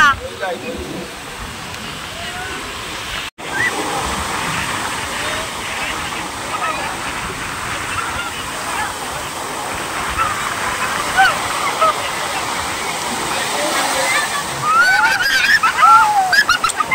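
Sea waves break and splash on the beach at Puri, a steady broadband surf roar lasting throughout, with louder surges near the end and a brief dropout early on.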